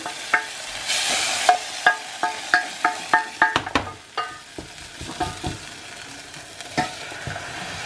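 Butter sizzles steadily in a pan while semi-skimmed milk is stirred in, with a run of rhythmic scraping strokes and clinks from the spoon, then quieter frying.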